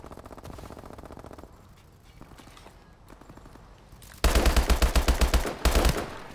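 Call of Duty Advanced Warfare gunfire: scattered quieter shots, then a loud rapid automatic burst, a short pause and another burst, close and punchy, with no voices.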